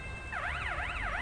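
Wailing police car siren in GTA V with LSPDFR, a rapid rising and falling yelp that starts abruptly and repeats in quick cycles, fairly close and steady over a low engine rumble.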